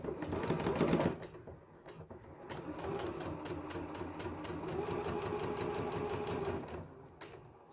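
Sewing machine running a single straight stitch on an envelope pillow cover, a fast steady mechanical whirring that runs near and continuous for several seconds after a brief louder start.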